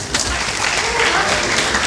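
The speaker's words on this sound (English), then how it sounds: "Let's give applause for all papers." Audience applause at a university debate competition exhibition, a short burst of clapping from a room of listeners, fairly loud and steady over a couple of seconds.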